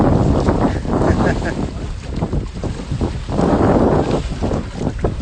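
A sailboat races between cays in the Exuma Bahamas, with loud, constant wind buffeting and water rush close around it, and voices faintly mixed in.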